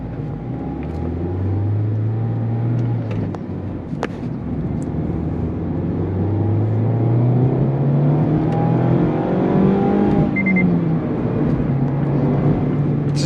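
A 2023 Mazda Miata with a six-speed manual driving on the road, its engine note rising and falling through gear changes, steady road and cabin noise throughout.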